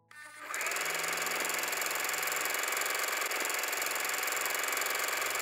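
A sewing machine starts up and runs blind hem stitches along the hem of an off-the-shoulder dress, giving a steady, close mechanical whir that holds unbroken for several seconds.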